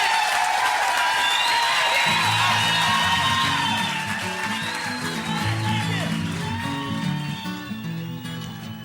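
A comedy club audience in Hamilton bursts into loud, sustained applause mixed with cheers and whoops, easing slightly as a musical tune starts underneath.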